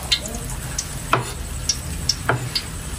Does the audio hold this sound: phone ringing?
no